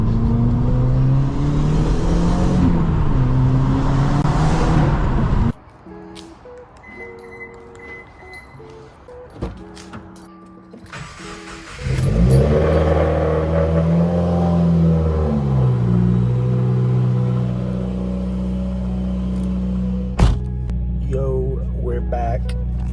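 A modified Subaru WRX engine hums and revs steadily from inside the car while driving, with shifting tones as it accelerates and eases off, plus a brief quieter stretch and some cabin clinks.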